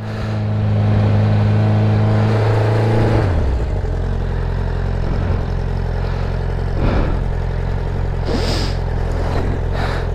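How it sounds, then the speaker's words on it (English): A car engine with an exhaust leak revs up, then drops to a rough, rumbling idle with a ticking, puffing character, heard close and loud. "Hate that exhaust leak."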